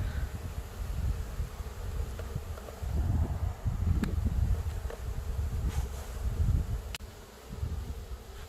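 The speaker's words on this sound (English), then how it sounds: "we're just watching the rest of these bees march in to get to their queen now" Honey bees buzzing as they crawl into a newly installed hive from a package, a dense, continuous drone close to the microphone that swells and fades, with some wind noise and no speech.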